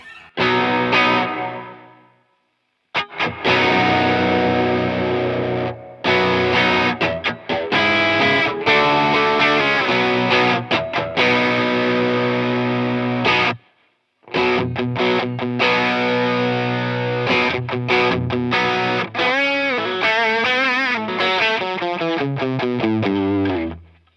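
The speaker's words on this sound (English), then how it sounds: "It's missing a distortion, because the drive will get you drive, but not distortion." An electric guitar with single-coil pickups plays through a Cuvave distortion effects pedal, giving loud, saturated chords and riffs in several bursts separated by brief pauses, with no talking.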